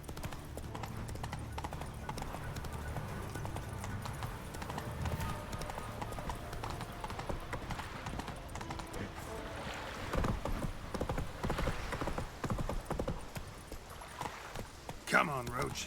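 Roach, the horse in The Witcher 3 video game, gallops with steady, rapid clip-clopping hooves that carry through the whole stretch, with voices and game sounds mixed in underneath.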